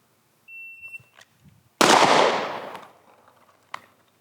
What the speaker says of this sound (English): Draw and fire with a chambered gun.